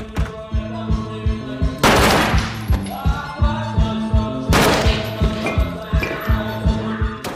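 Bursts of gunfire in a film scene where terrorists shoot hotel guests: loud repeated shots in a steady rhythm, with two heavy blasts of wide noise partway through and nobody speaking.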